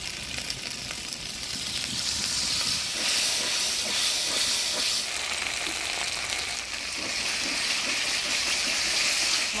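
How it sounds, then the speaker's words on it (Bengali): Spice paste with turmeric and salt sizzles in a pan after a splash of water, a loud, steady close-up hiss and crackle of frying lasting the whole time, with no talk. "এবার অল্প মশলা বাটি ধোয়া জল দিয়ে মশলাটা ভালো করে কষায় নিব।"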